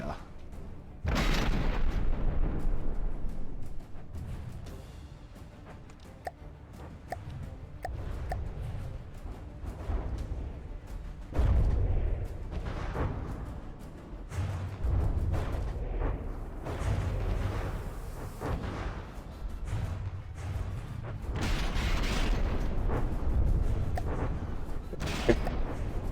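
Naval combat in the video game From the Depths, with repeated deep booms of gunfire and explosions at an uneven rhythm, some louder and closer, some distant, forming a continuous rumbling barrage.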